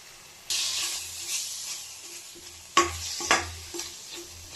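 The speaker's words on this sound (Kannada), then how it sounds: "ಚೆನ್ನಾಗಿ ಫ್ರೈ ಮಾಡ್ಕೊಳ್ಳಿ." Spinach sizzles in a pan with chilli powder, turmeric and garam masala while being stirred, giving steady hiss and scraping punctuated by a few sharper stirring knocks, close and fairly quiet.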